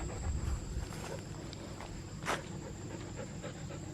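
A dog panting and padding about near a garden, the breathing soft and steady against low background rumble, with a brief brighter rustle partway through.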